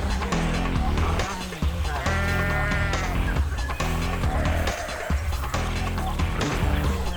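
Sheep bleating in the Australian wild, several wavering calls rising over a dense, continuous bed of music and ambient sound, with a voice narrating at times.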